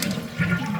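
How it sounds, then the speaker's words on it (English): Water rushes and gurgles as a toilet tank drains during replacement of its fill valve, a short, steady, close flushing sound at moderate volume. "What we're doing now is letting the water out, taking the pressure off of that."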